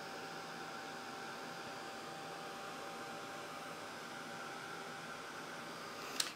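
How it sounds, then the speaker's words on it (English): A heat tool runs steadily and continuously, drying Distress Oxide ink on a paper tag with a constant broadband whoosh and hum, ending in a brief click as it shuts off. "I'm just going to give it that quick heat dry"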